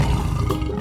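A tiger in a 3D animal slide video game gives a loud, rough, noisy roar that stays dense and steady for under a second, close and alone.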